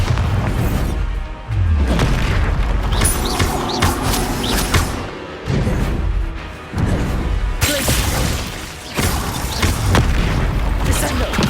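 Repeated booming blasts of the Bombarda spell from the game Hogwarts Legacy, heavy explosions with crashing, whooshing debris erupting in quick succession, with brief lulls between bursts and a voice faintly underneath.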